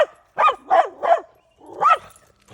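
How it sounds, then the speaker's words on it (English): A dog barks in a park, four sharp barks in quick succession followed by a fifth after a pause and a faint final yip, close and loud with no talking. "All she does is damn barking."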